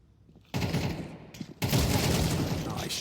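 Dense bursts of rapid gunfire from a competitive Counter-Strike-style shooter match between Aurora and Navi, starting abruptly after a quiet moment and then growing louder and sustained, with several weapons firing at once.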